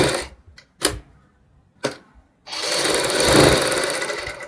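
A sewing machine stitches buckram onto a blouse's back neck, first in a few short separate bursts, then in one long, loud, continuous run of rapid stitching close by.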